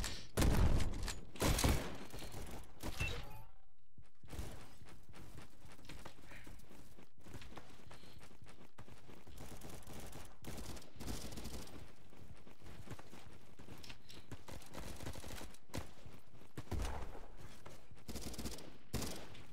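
Gunfire in the video game Bad Business, including the 1887 shotgun, quiet, sharp bursts and repeated shots spread across the clip, with a brief gap and some thuds and footsteps between them.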